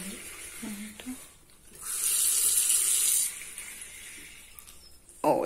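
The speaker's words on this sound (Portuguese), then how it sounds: "Ela tem um jato, aquele negocinho que sai água," Water sprays from a newly installed kitchen faucet for about a second and a half, a steady hissing burst that stops abruptly, with quieter household sounds before and a short clatter at the end.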